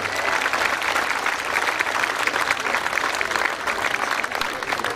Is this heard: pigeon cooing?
no